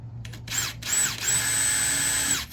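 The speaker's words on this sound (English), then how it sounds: "And I'm just touching them with a drill." A power drill whirs in three short bursts drilling shallow pilot holes in a wooden 1x4, speeding up and winding down each time, the last lasting over a second, close and fairly quiet.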